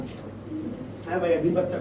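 A pair of black Dragon fancy pigeons coo in short, low rounded phrases toward the end, fairly close, over a steady background hum with some faint voice-like murmur.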